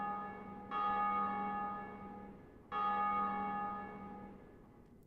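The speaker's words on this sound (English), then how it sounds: "That means somebody just rang the bell" A church bell in the video game Dark Souls tolls twice, each strike loud and ringing with a long, slowly fading hum, about two seconds apart, followed by a brief sharp click at the end.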